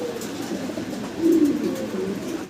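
Lahori pigeons coo softly, with a low rolling call swelling briefly in the middle over a faint background hum, no voices.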